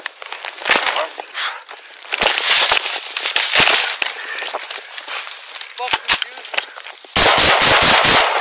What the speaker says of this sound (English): shots fired, subject down